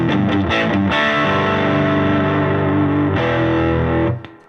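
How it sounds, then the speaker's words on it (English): Electric guitar played through an amp's overdrive channel: a thick, distorted, sustained chord with a few picked notes at the start, ringing out for several seconds before being cut short. "Overdrive sound on the amp."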